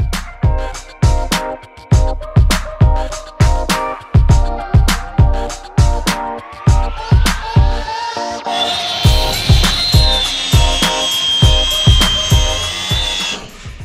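Repeated short bursts of an electric grinder or tool working on reinforced rear subframe mounts of an LS1-swapped BMW E46, each pulse loud and close in a steady rhythm, with a sustained higher whine taking over in the second half.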